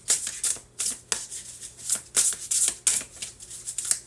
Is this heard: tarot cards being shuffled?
yes